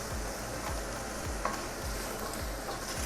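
Italian sausage mixed with ground beef sautéing in a pan, a steady close sizzle with regular soft scraping strokes of a utensil stirring the meat every half second or so.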